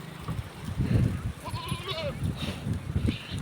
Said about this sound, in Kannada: ಕುರಿಗಳು ಮರಿ ಕುರಿ ಎಲ್ಲ ಎಷ್ಟೊಂದು ಚೆನ್ನಾಗಿದಾವೆ ನೋಡಿ